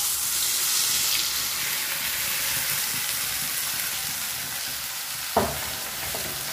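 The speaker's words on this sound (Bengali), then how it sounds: "কড়াইতে দিয়ে দিচ্ছি সাদা তেল, দিয়ে মটরশুঁটিটা পেস্ট করে নিচ্ছি।" Green pea paste fries in hot white oil in a wok, giving a steady, close hiss and sizzle with a brief clatter of stirring near the end.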